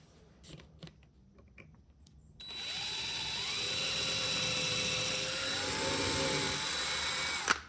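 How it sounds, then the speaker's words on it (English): Power drill pre-drilling holes in a wooden backing board for wall art: a steady, loud, high-pitched whine that starts abruptly after a few quiet handling taps and rises slightly in pitch midway. "measure out where I want the hardware to go, pre-drill the holes, make sure it works"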